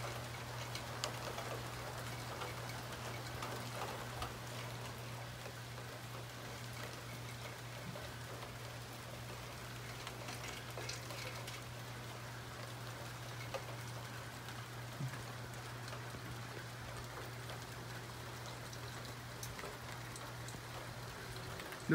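Light rain falling on a dusty street strewn with leaves and debris: a soft, steady hiss of drops with occasional small ticks and patters, faint and continuous throughout, with a low steady hum beneath and no voices.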